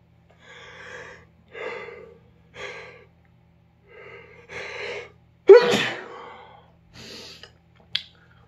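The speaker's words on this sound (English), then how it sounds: "I usually only sneeze 3 in a row." Repeated human sneezing, a series of breathy bursts with sharp exhalations and one loud, forceful sneeze, close and alone with no talking.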